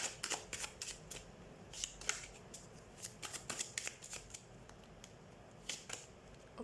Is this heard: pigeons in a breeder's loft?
no